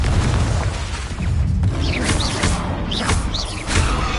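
Confringo blasting-spell explosions in Hogwarts Legacy, dense rumbling booms and crackling bursts sustained throughout, with whooshing spell effects rising over a heavy low roar.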